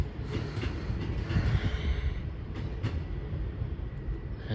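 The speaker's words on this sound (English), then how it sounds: "As that train goes" A passenger train rolls through Exeter St Davids station on a Sunday afternoon, a steady loud rumble of wheels and engine with faint rail clicks and a brief high squeal, close by and continuous throughout.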